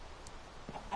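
A chicken in the Minecraft video game gives a couple of brief, faint clucks over a low, steady background hum.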